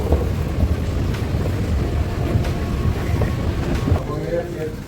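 A Dubai Metro train rumbles through a station, a continuous loud low roar with faint rhythmic clatter, heard alone and close for several seconds.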